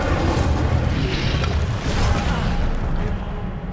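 An Incendio fire spell is cast in Hogwarts Legacy, a loud, rumbling whoosh and burst of flame that sustains for a few seconds before trailing off.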